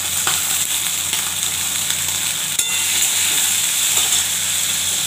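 Onions and fish frying together in a hot pan, giving a loud, steady crackling sizzle with small pops throughout and no voices.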